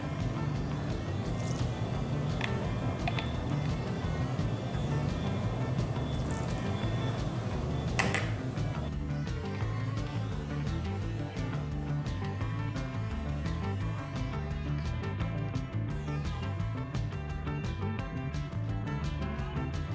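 Cake batter being mixed with vanilla gives a continuous soft squishing and wet churning, with faint scraping clicks around it, steady and fairly quiet throughout.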